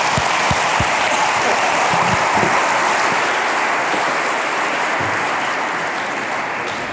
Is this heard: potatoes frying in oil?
no